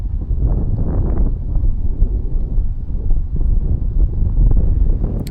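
Wind gusts over a lake at Doris Lake Recreation Site, British Columbia, in early autumn, buffeting the microphone with a low, continuous rumble that swells and fades, with no voices.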